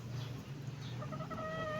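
A pet chicken clucks in a low, muffled burst over a steady background hum, then gives a few brief rising calls near the end, faint and fairly close.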